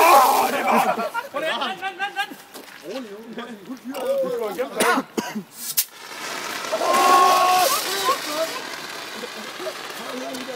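Water poured over a person splashes in a broad rushing burst during the second half, amid excited shouting, laughter and chatter from a group of people.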